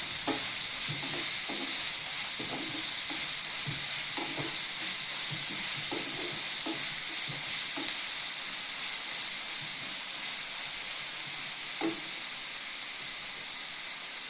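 Ingredients for egg theeyal curry, with a pinch of salt added, fry in a pan with a constant loud sizzle. Occasional spoon scrapes and taps break in as the mix is stirred, and no one speaks.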